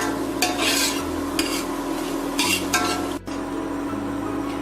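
Onions and green chilies cook in a pot for keto chicken soup, giving a constant close sizzle with repeated spoon stirring and scraping strokes at a steady pace, and no voices.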